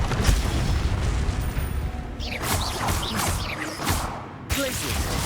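Confringo fire spell blasts in the Hogwarts Legacy video game, booming explosive bursts and crashes amid ongoing combat effects, loud and repeated over several seconds, with a voice briefly heard.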